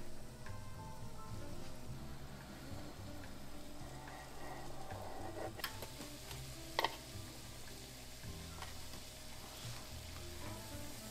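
Churro dough frying in hot oil for a Mexican dessert, a steady dense sizzle and bubbling throughout with occasional small pops and ticks, no voices.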